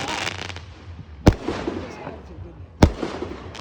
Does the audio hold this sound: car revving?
no